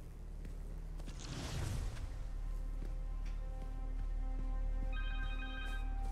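A phone rings with a repeating electronic tone in Marvel's Spider-Man video game, heard under continuous game ambience and music; the ringing becomes clearer toward the end.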